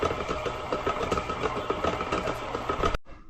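A KitchenAid stand mixer runs on a low setting with the paddle attachment beating cracker dough, a steady close motor drone with rhythmic knocking that cuts off abruptly near the end.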